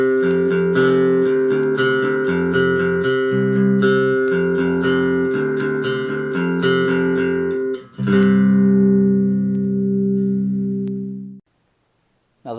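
Electric bass guitar playing the bridge of a song, steady sustained notes in a repeating pattern, loud and close, ending with a long held note that rings out into silence.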